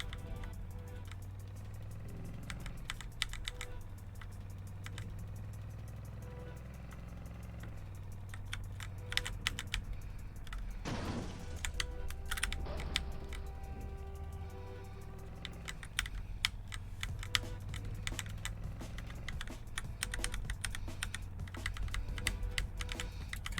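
Rapid computer keyboard clatter while playing Prison Escape Simulator: Dig Out, with irregular bursts of key presses over a low steady hum and game sounds, no talking.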